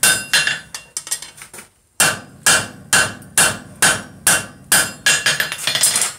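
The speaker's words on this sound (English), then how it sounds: "A little less hammering on this side" Hot steel for a bottle opener hammered on an anvil: loud, close metallic strikes in a quick, uneven series, a brief pause, then about a dozen more evenly spaced blows, each ringing briefly.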